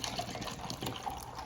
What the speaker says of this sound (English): Pour that in my cup of ice.